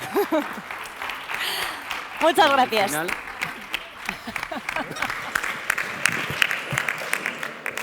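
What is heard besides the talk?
audience applause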